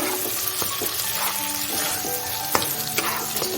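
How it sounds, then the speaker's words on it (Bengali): Almonds fry in two spoons of ghee in a kadai on a gas stove for badam halwa, giving a loud, dense, continuous sizzle close up, with small clinks and scrapes of stirring. "কড়াইয়ে আমি দু চামচ ঘি দিয়ে দিয়েছি এরপর আমি পেটে রাখা বাদামটা দিয়ে দেব"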